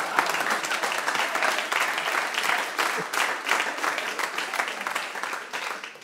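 Live audience at a talk show taped in Nyborg, Denmark, breaking into sustained applause: a dense, even wash of many hands clapping that holds loud for several seconds.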